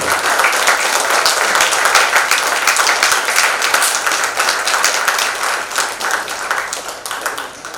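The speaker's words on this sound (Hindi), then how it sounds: "जब बढ़िया से तालियां बज रही है" Audience applause at the close of a Hindi stage play, the drama Masiha, a dense, steady wash of many hands clapping that stays loud throughout and tapers slightly near the end.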